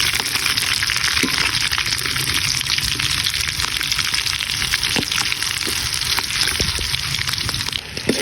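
Chicken intestines and feet sauté in a hot pan, giving a steady, loud sizzle and crackle with scattered pops and spits throughout, close up and uninterrupted.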